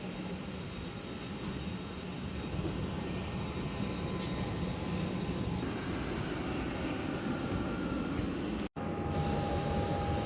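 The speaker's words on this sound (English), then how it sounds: "we were led onto the tarmac so we could board the Airbus A320" Airport tarmac beside an Airbus A320 during boarding, with a steady, loud broadband roar of jet engines and ground equipment throughout and a brief dropout near the end.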